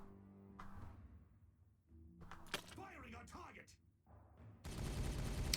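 Video game gunfire from Warhammer 40,000: Regicide as a unit shoots an enemy, a few sharp cracks and a dense burst of noise toward the end, with game voices and sounds mixed in.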